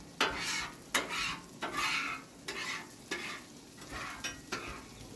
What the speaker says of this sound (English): Clean off our griddle a little bit.